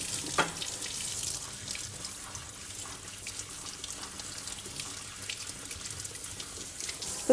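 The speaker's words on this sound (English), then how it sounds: "Drain and rinse briefly." Steady running tap water splashes continuously into a sink while rinsing boiled white beans, a soft even hiss with faint drips, no voices.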